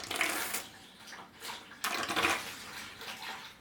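An aquarium siphon drains water during a fish tank water change, a soft rushing and gurgling flow that swells and fades in uneven bursts, fairly quiet and with no talking.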